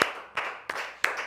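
Four sharp, close hand claps land at a slow, even pace, each standing out alone with quiet gaps between them.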